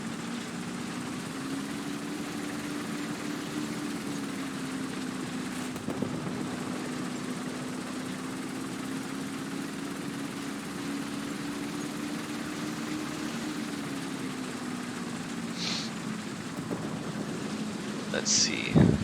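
An enemy tank engine in the War Thunder video game gives off a steady, low droning hum that continues unbroken throughout, with a few brief clicks near the end.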